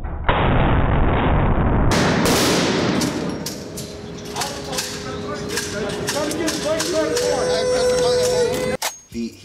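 A gold Desert Eagle pistol fired in a burst of loud, close gunshots, overlapping with other rapid shots and booming reports, while people talk throughout and a steady tone runs underneath.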